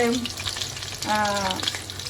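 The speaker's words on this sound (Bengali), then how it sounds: "এখানে ইলিশ মাছ ভেজে নিচ্ছি" Hilsa fish frying in hot oil in a home kitchen, a steady broadband sizzle throughout, with brief voices or tonal sounds briefly over the crackle.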